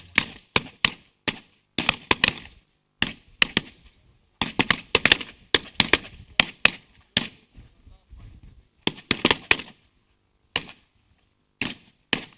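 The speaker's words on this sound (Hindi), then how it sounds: "गन शॉट चल रहे हैं इस वक्त" Gunfire rings out in the Syrian war during fighting with ISIS. Sharp, loud cracks come in irregular bursts and clusters, separated by short silent gaps.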